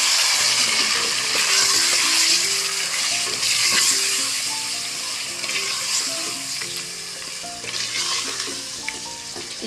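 Chicken coated with red chili powder, turmeric and salt fries in a pot with a loud, close, continuous sizzle, with occasional stirring scrapes over a faint tonal background.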